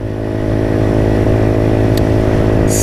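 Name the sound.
Motrac M5 motorcycle engine revving, Honda Grom clone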